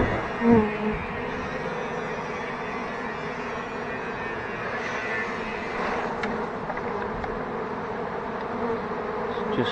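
Honeybees drone in a dense, continuous buzz close by while their nest is removed from a house due for demolition, the swarm sound holding steady throughout.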